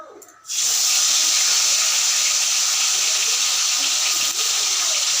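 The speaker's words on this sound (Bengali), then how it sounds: "এখন মাছ ভাজা করবো" Rohu fish pieces dropped into hot oil in a wok, a sudden loud sizzle bursting in and holding as a steady close hiss.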